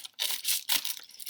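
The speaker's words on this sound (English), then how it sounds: "I'm going to cut this fish out" Scissors cut a fish shape out of bubble wrap with close, crisp crinkling and snipping bursts, quiet and irregular, without any voice.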